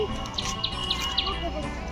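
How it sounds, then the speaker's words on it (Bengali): A bird singing outdoors, a series of about five bright, evenly spaced chirps that stand out clearly over steady background noise. "ও একটা পাখিও ডাকছে, কি সুন্দর"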